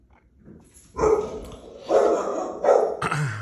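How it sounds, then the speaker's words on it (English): Dogs barking indoors nearby, three loud, distinct barks spaced about a second apart after a soft whimpering start, with no talking. "The dogs were yelling."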